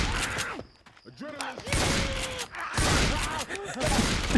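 Gunfire in a shooting video game played on an Xbox, with rapid loud bursts of shots running through most of the stretch under excited talking voices.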